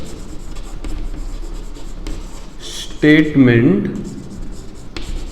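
A teacher writes on a board during a maths lesson, leaving faint, scratchy strokes and taps in short bursts beneath a low room hum, with a brief stretch of spoken words in the middle.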